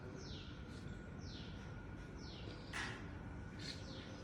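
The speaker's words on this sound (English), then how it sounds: "birds chirping" Birds chirping on a clear morning near gulmohar and neem trees, repeated short descending calls at a regular pace with a couple of sharper chirps, faint and distant over a low background hum.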